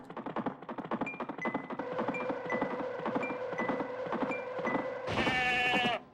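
Sheep bleat repeatedly in the Touge Max 2 racing game, a series of short nasal cries over a rhythmic tapping pattern, ending in a louder, brighter bleat near the close.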